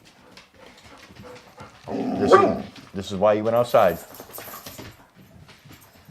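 Dogs whimpering and yelping in short whiny bursts at close range, rising over ongoing conversation with people talking throughout.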